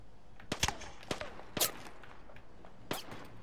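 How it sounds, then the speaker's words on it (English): Gunfire in the Apex Legends video game, with several sharp shots spread across a few seconds, including a close pair early on and a single shot near the end, over steady game ambience. "I am taking fire, friends."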